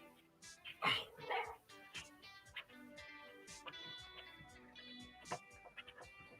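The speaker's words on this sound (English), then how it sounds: "Come on, dog." A dog barks and yips in short bursts at moderate distance, over a busy background of music and people talking.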